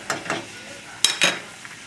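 Lamb shanks land in a pot with a few brief bumps and short bursts of sizzle, close and fairly quiet, with no talking.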